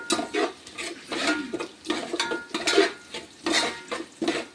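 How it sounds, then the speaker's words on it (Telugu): Cumin seeds are dry-roasted in a pan over a low flame for jeera rice and stirred with a utensil, giving close, repeated scraping and clinking strokes in an uneven rhythm of about two per second, with no voices. "చాలా సిమ్లో పెట్టి వేయించుకోవాలి. మనకు పచ్చివాసన పోయేదాకా మనం వేయించుకోవాలి"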